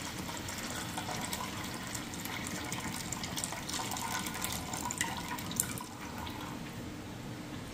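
Water from cooked intestines is poured out in a steady, continuous splashing gush, close and fairly loud, with no break throughout.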